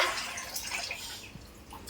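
Water runs steadily from a tap with a soft, continuous hiss and faint dripping, fairly quiet and close by, with no voices.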